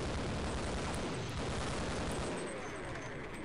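Dense, continuous roar of gunfire and booms in Half-Life during a tank battle, loud and unbroken with no clear separate shots.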